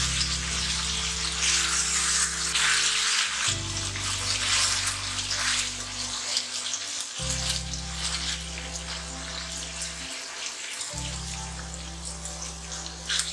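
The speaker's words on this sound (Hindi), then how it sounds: "इतना पानी डालना है कि फिशेस डिप हो जाएं" Steady pouring and splashing of water into a pan of fried fish for curry, with sizzling underneath and a low background hum throughout.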